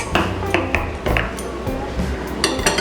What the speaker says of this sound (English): Now let's add in our carrots.